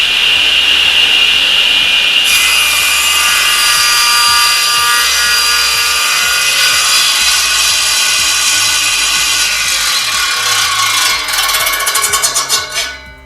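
A SIP 10-inch cast iron table saw with a sliding carriage cuts wood, giving a loud, sustained high whine and hiss from the blade that grows rougher toward the end before the sound drops away.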